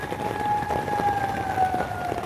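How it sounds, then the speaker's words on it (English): Tornado sirens wail outside a tent during a storm, a steady, slowly falling tone heard at a distance over a rushing background of wind or rain, with no talk. "See, those are those sirens outside you hear."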